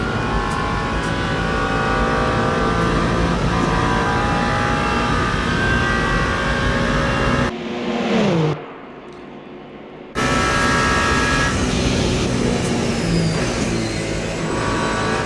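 A race car engine in the Le Mans Ultimate racing game screams continuously at high revs, drops briefly as it shifts down and goes nearly quiet, then roars back up to full speed.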